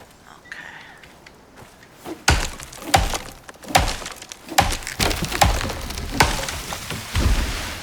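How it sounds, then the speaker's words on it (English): Chopping at a tree root in the survival game Icarus: a series of about eight sharp woody thunks and cracks, loud and fairly evenly spaced, following a quieter stretch of faint background sound. "I like to chop down the root too"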